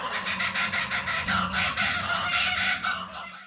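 A wild songbird mimics other species, such as a kookaburra, grey shrike-thrush and superb fairy-wren, in a loud, continuous, dense stream of varied calls and rapid repeated notes, close by and with no talking.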